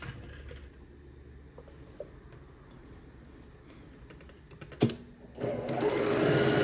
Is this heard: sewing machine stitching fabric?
yes